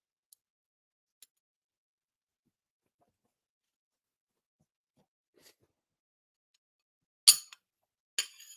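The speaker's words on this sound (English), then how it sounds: "Sorry if I'm annoying you with the glass clinking." Glass clinks a few times: isolated faint ticks early on, then two brighter, louder clinks near the end against near silence.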